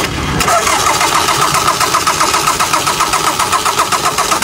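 A diesel car engine cranks and catches, then settles into a loud, steady rumble with a rhythmic clatter that continues without pause.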